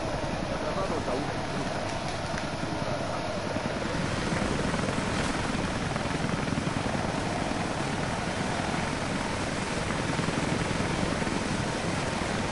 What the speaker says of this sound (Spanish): Creo que tengo que escapar en ese helicóptero, estoy seguro.